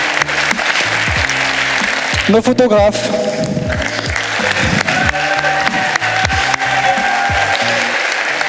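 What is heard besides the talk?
audience applause for camera crew and photographers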